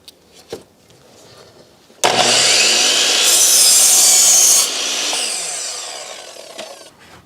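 Table saw cutting a wooden rafter tail at a 10-degree angle, a few light knocks, then the blade bites in with a loud sustained whine and rasp that eases as the cut finishes and winds down.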